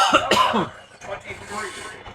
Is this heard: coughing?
yes